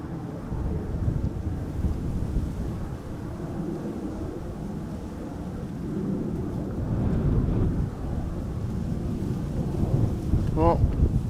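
A Cargolux Boeing 747 landing at Schiphol Airport, heard as a deep, continuous jet rumble that swells and fades at a distance, steady and broad, with no talk over it.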